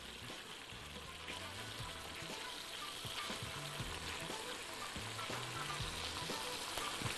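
Kofta fries in a pan with a steady, close sizzle and crackle of oil that keeps up the whole time, with soft stirring knocks here and there.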